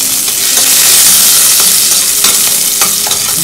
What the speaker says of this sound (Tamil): நெய் விட்டாச்சு. இங்க பாருங்க கடுகு சீரகம் தாளிச்சுக்கலாம். இப்போ இஞ்சி பூண்டு சேர்த்துக்கலாம்.